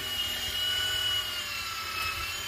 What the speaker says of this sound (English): We got a Milwaukee drill hooked up with a little gearbox to get this sucker over the humps.